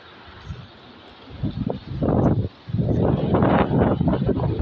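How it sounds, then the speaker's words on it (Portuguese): Strong storm wind gusting over the microphone in a residential neighbourhood of Araraquara, rising from a low rumble into loud, sustained roaring blasts with a brief lull, no talking heard. "O vento aqui tá forte"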